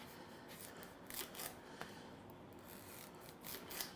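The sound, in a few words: knife slicing butternut squash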